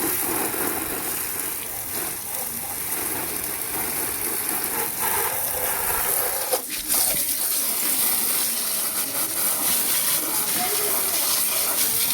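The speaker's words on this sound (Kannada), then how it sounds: "ನಳಕ್ ನೀರು ಸಾರ್ಕಿ ಸಾರ್ಕಿ ಬಿಡಂಗಿಲ್ಲ ಅದಕ್ಕೆ ಸ್ವಲ್ಪ ನೀರು ಹೊಡೆದು ಸ್ವಚ್ಛ ಮಾಡಿಡ್ತಾನೆ ಗಾಡಿ" A steady, hissing gush of water from a hose sprays onto a vehicle to wash it, a continuous close stream with a brief thump partway through and faint voices in the background.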